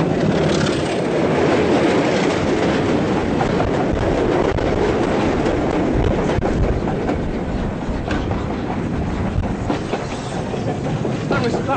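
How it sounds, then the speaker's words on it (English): A Class 25 diesel locomotive hauls a goods train of mineral wagons past at a heritage railway gala, a loud sustained rumble with steady clickety-clack from the wagons that carries on without letting up. "It's pulling a goods train of mineral wagons."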